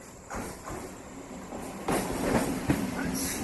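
Train running, used as a sound effect in a horror audio story: a steady rumble with rhythmic rail clatter that builds in loudness toward the end, heard alone without talk.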